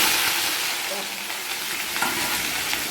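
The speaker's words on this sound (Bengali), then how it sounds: "এখন আলুটাকে ভাজবো। তেলটাও গরম হয়ে গেছে, তো আলুটাকে চলো ছেড়ে দিই।" Cut potatoes fry in very hot oil, giving a loud, continuous crackling sizzle with stirring scrapes mixed through it, close up and with no talk.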